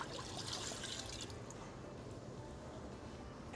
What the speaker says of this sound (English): So we'll add the red wine.